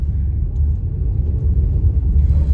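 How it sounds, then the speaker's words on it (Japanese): Low, steady road rumble from a car moving slowly on a narrow road, recorded inside on an iPhone, droning continuously and fairly loud, with no voices. "走行音がねかなり入ると思いますけれども"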